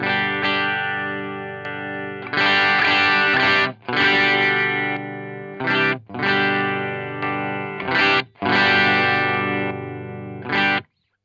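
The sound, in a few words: overdrive pedal electric guitar, US voicing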